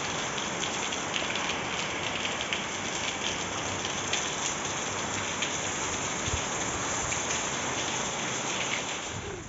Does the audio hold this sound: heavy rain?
yes